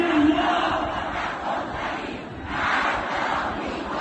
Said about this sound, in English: pro-Iran crowds out there